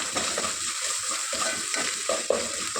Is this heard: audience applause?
no